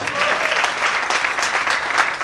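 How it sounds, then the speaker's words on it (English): A church congregation claps loudly and densely during a prophet's sermon, a sustained wash of many hands close by. "Clap for Jesus."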